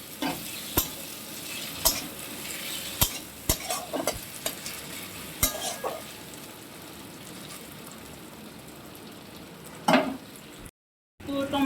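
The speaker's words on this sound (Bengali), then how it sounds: "টমেটাও কিছুক্ষণ আমি নাড়িয়ে চাড়িয়ে ভেজে নেবো" Chopped tomato and spices stir-fried in a pan for a papaya, potato and prawn curry: a steady, close sizzle broken by sharp scraping clicks of the spatula, busier early on and easing toward the end, with no talk.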